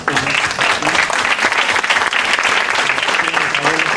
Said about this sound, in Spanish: Creo que sería bueno concluir con un fuerte aplauso para las dos.